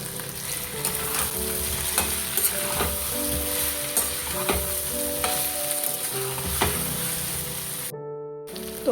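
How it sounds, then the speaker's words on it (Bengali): Fried potatoes with spices and salt being cooked down in a pan, a continuous loud sizzle with regular scraping stirs close by, the sound cutting out abruptly just before the end. "আলু ভাজা দিয়েও খুব ভালো করে কষিয়ে নিতে হবে"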